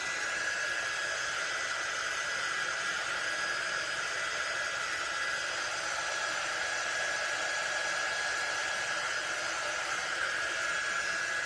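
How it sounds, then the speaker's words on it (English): Hair dryer blowing continuously at close range over a freshly painted banner, a steady loud airy whoosh with a constant whine, unbroken for the whole stretch and without any talk. "I'm like putting my dryer almost touching it."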